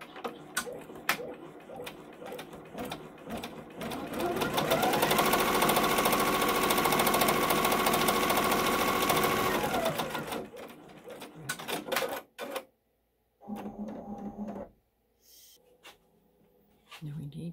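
An embroidery machine runs a tack-down stitch along the edges of a quilt block, its fast mechanical needle chatter swelling loud for several seconds before stopping, with clicks and a brief voice afterward.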